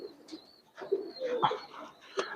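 Pigeons in a small loft give soft, intermittent coos and brief calls, fairly close, with quiet rustling between calls and no talking.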